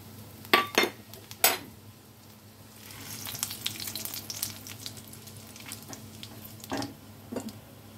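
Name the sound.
whole spices frying in oil for gravy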